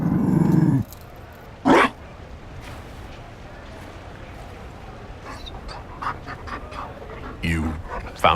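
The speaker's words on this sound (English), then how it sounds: "Good puppy. Oh, it's a big doggo." A big Mabari war dog in a Dragon Age game gives short, loud bursts of growling and panting, separated by quieter gaps, with faint game ambience between them.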